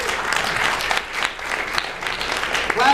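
An audience at a film tribute event bursts into applause for actress Denise Richards, a dense, close, sustained clapping that lasts throughout with faint crowd voices mixed in.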